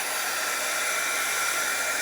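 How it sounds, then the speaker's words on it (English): A hair dryer blows over fresh watercolor paint on a pink floral painting, a steady close whirring rush that holds unchanged throughout with no talking. "I'm going to hit this really quick with my dryer"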